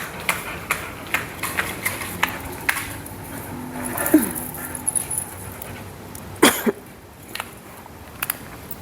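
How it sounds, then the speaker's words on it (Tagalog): A big pet dog moves about outdoors at home, making faint rhythmic clicks and soft mouthing sounds with an occasional whimper, heard fairly close over quiet background. "ang laki ng aming aso. Aso naming pogi."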